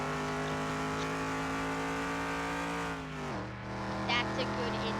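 A steady car engine drone in the video game Car Mechanic Simulator 2021, during a lap, with dense harmonic tones; it holds, dips briefly in pitch as if shifting down, then resumes at a slightly lower note.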